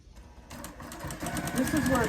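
A sewing machine stitches a quilt seam at a quarter-inch allowance, starting after a brief pause and running in a quick, steady pulsing whir that speeds up toward the end.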